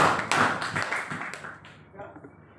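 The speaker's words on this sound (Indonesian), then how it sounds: "tepuk tangan sekali lagi" A classroom of students claps briefly for classmates, a short scattered burst of applause under a teacher's voice that fades out after about a second and a half.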